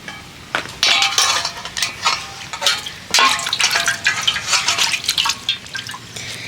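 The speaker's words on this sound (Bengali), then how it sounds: "দেখুন তালটাকে ধুয়ে নেব, তার জন্য মুখের খোসাটাকে ছাড়িয়ে নিচ্ছি।" A ripe palm fruit being washed under water: close splashing and dripping with irregular bursts as the fruit is turned and rubbed, continuous for several seconds with no talking.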